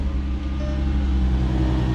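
A Volvo V70R starting from cold, its engine settling into a loud, steady idle drone up close, with no talking.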